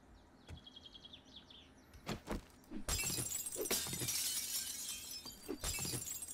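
Glass shatters loudly in the zombie survival game 7 Days to Die, with several sharp crashes and a sustained spray of breaking shards, preceded by faint bird chirps in a quiet outdoor setting.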